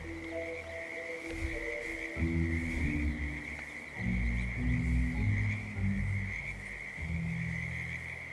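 Frogs croak behind a house in Whittleton Creek in the video game Hitman, with a chorus of deep, throaty calls overlapping and swelling in waves under a steady high insect-like drone.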